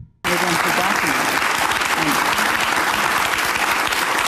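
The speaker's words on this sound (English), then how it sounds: "the crowd is applauding this" A large crowd at a political gathering breaks into loud, dense applause that starts abruptly and holds steady, with voices and cheering mixed into the clapping.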